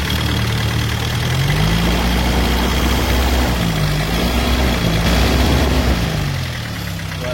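A 1994 Isuzu Panther engine is blipped and revved up and down several times, its pitch rising and falling in gentle swells over a loud, close idle.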